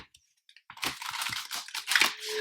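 A deck of tarot cards being shuffled, a quiet series of soft riffling and flicking bursts close by, building into a continuous papery rustle after a few faint taps.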